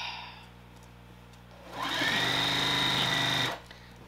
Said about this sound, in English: Just keep stitching.